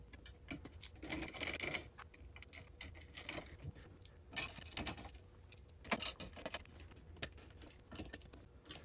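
Metal hardware rattling and clicking as a VESA mount is screwed onto an Atumtek ATMS032 monitor arm, with irregular close handling clicks, small clacks and a few sharper taps over a quiet room.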